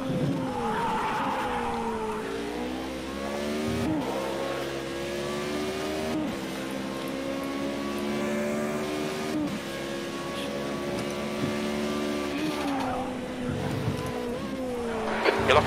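A race car in a racing video game locks its left front tyre under braking into a corner, with a loud, sustained tyre squeal over the shifting engine drone, alone for most of the stretch.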